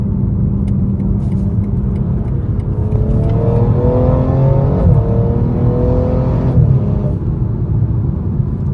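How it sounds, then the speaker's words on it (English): A BMW M240i's B58 six-cylinder engine drones loud and close while driving at night, its pitch climbing steadily as revs rise, then easing off near the end. "The B58 engine tone is the one. They nailed it."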